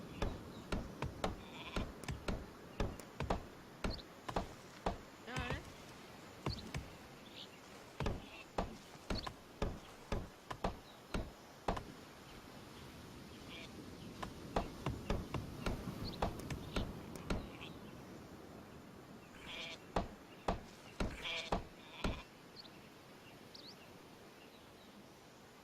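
Sheep bleat repeatedly in the strategy game Northgard, a run of short, clear calls at an uneven rhythm over a soft ambient game bed, with brief pauses between clusters.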